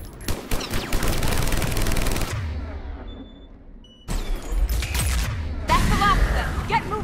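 Rapid bursts of automatic gunfire and blasts from the Mass Effect Legendary Edition video game, loud and dense, breaking off briefly before resuming, with voices calling out over the shooting.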